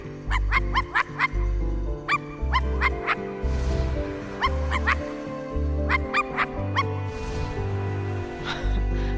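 Dog whimpering and yipping in the game I Am Dead: repeated high, thin whines come in short clusters over a steady tonal game soundtrack, with a few soft bark-like yelps.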